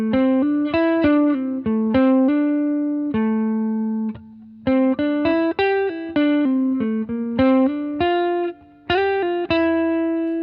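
An electric guitar with distortion plays a solo alone with no backing track, a string of clear picked notes and sustained tones with short gaps, close and moderately loud.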